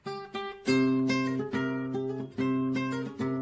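Flamenco guitar strings plucked in a series of chords, each attack ringing bright and then decaying, about seven strums in a loose rhythm, close and clear.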